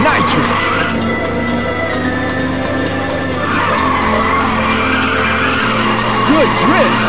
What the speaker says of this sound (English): Good drift.